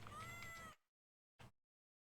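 A kitty meowing in a Nintendo Switch platformer game: one clear, loud, drawn-out meow that cuts off abruptly, then a short second blip after a brief silence.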